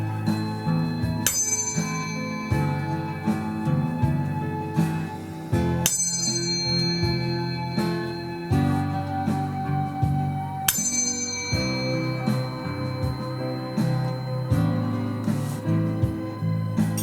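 Clear metallic tones from tuning forks ring out and slowly fade, struck again every few seconds, with long sustained overtones layering over one another.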